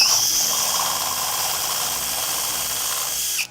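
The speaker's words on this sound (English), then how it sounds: "It's hard to drill through plastic, especially whenever this is not level." A power drill with a 1 inch bit bores through plastic, giving a loud, steady high-pitched whine close by that holds for a few seconds and stops abruptly.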